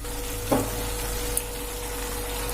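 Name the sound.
stirring vegetables with coconut paste in a pan for aviyal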